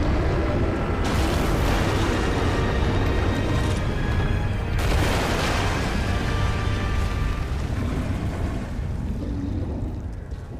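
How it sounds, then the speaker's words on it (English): A cannon fires in the Wild Hearts video game, with two booming bursts and a rumbling roar that fades slowly over a continuous heavy background, no talking. "Your aim with the cannon is spot on."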